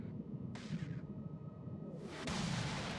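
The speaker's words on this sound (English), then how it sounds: "The Abaddons for Kadeshi firing immediately on the Rooks" Abaddon battleships fire their weapons in a fleet battle in the space game Eve Online, heard as a sharp whooshing burst and a later sustained roaring barrage over a low, rumbling battle din.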